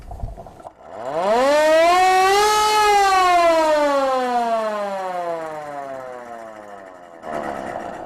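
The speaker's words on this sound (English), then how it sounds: "I'm standing next to the original siren. It's a mechanical siren off the 1914 Pope Hartford." A 1914 Pope Hartford mechanical fire siren is hand-run up close. It winds up quickly to a loud, wailing peak, then slowly winds down in one long, falling howl. No other sounds are present.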